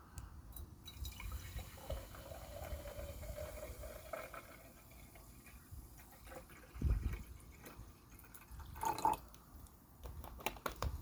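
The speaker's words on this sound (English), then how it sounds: "In goes the water." Water poured onto aluminium sitting in sodium hydroxide gives faint dripping and splashing with a brief louder splash midway and another burst near the end, no talk.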